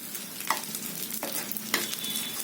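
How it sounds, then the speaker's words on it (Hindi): Edible gum (gond) fries in ghee with a soft, steady sizzle and a few sharp little pops as the pieces puff, close by and alone. "1 चम्मच डालेंगे हम इसमें घी। करेंगे गोंद को फ्राई।"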